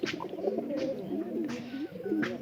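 Loft pigeons coo in a low, faint, repeated burbling that rolls on for a couple of seconds with no voices over it.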